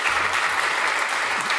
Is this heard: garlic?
no